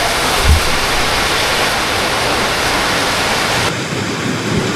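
Steady rain pours down at a resort near Ajodhya Hill in Purulia, a dense, even hiss that holds at one level and then drops in character toward the end, with a soft low thump early on.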